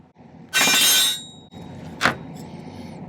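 A metal strip being cut in silversmithing, one harsh rasping cut lasting about half a second, then a brief sharp snap a moment later, close and loud in a quiet room.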